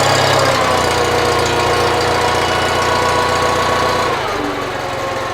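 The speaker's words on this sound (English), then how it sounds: "So this is a key start tractor" A 1973 IH Farmall 140 tractor with a pull choke, key-started and running: a loud, steady mid-pitched engine chug with a slight knock, dropping in pitch and easing off near the end.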